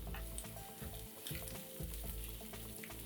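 Finely chopped onion and green chilli sautéing in a pan, a steady loud sizzle with scattered crackles and soft stirring scrapes, no voices.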